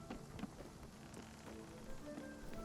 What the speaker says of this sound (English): A little bit of rain and thunder.